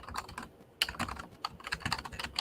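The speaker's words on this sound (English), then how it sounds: "keyboard sounds like one of them old school typewriters" Close-miked, loud computer keyboard clacking like an old typewriter, with quick bursts of keystrokes separated by brief pauses.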